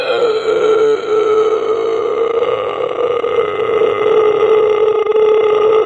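A voice imitates a low, growly underdark monster sound with a constricted throat. It is one loud, sustained rasping growl held for about six seconds, close and alone.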